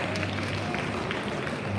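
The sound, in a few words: applause at school prize day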